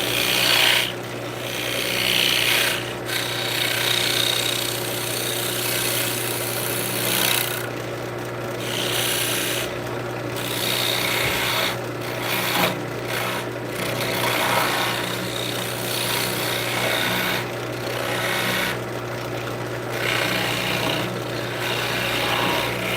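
Wood spindle turning on a lathe with a detail gouge, a steady rasping, rubbing cut with a constant low motor hum beneath and brief pauses as the tool lifts off, close and fairly loud with no talking.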